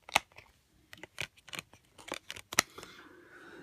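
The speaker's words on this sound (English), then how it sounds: "Peel this back and see what's on disc 2." Plastic packaging on a wrestling DVD set being peeled back, heard as a series of sharp, close crinkling and tearing bursts separated by brief pauses, ending in a softer rustle.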